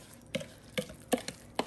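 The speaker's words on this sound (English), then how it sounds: "And then I'm just gonna start mixing this up like I would a normal cake." Sugar-free almond flour cupcake batter being mixed by hand with milk in a bowl, giving four sharp, separate knocks and scrapes spaced roughly evenly with quiet gaps between them.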